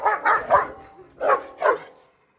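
A Kangal dog barks five times nearby, three quick barks, a pause, then two more.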